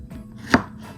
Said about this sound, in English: Cut it long ways like this.